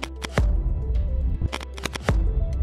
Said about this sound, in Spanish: El primer efecto de sonido que vamos a utilizar es un hit, un golpe.